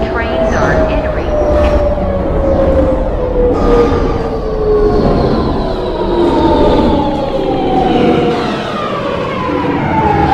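A subway train pulls into a station in a Roblox game, a loud rumbling rush with a falling whine that sustains throughout, while an announcement voice talks over it.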